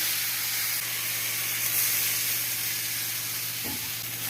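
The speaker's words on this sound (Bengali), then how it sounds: "এবার জল ঢেলে দেব" Water hitting a hot pan of spiced rohu fish head and vegetables, producing a loud, steady hissing sizzle with steam that holds evenly throughout, close up and without talk.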